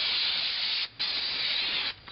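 Waterproofing spray is misted onto shipping package labels in close, loud hissing bursts: one long spray, a brief pause, then another long hiss before it cuts off.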